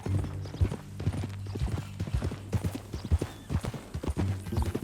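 Steady clip-clop of horse hooves on the ground in the video game Red Dead Redemption 2, a close, rhythmic walking gait with the sound alone and no talk.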